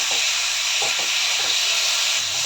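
Tomato thecha roasting in a pan gives a steady, even sizzling hiss throughout, with a few faint soft pops and no talking.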